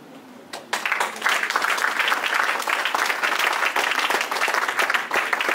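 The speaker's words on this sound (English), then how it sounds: "I asked that you should clap for Lina because of money" Applause for Lina at an association's presidential investiture: a few scattered claps swell into sustained, full crowd clapping that holds steady to the end.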